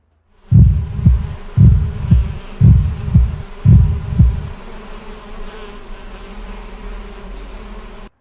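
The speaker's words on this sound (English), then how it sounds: "Did you just trigger a heartbeat sound?" Deep thumping heartbeat, four paired lub-dub beats in a slow steady rhythm, loud and close, then fading into a quiet low hum.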